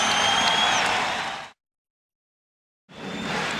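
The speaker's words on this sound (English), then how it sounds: "The crowd responding to the good start by the LA Lakers." A basketball arena crowd roars and applauds for the Los Angeles Lakers in the 1991 NBA Finals, a loud, dense wash of cheering broken by a sudden gap of silence before it resumes.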